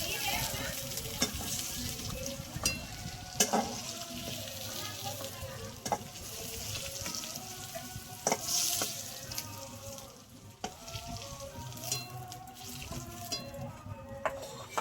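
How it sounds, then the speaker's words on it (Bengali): Potatoes frying in a pan after pointed gourd, a soft continuous sizzle broken by scattered clicks and scraping knocks of a stirring utensil, close but quiet, with no talking. "এবার আমি আলুগুলো ভেজে নেব।"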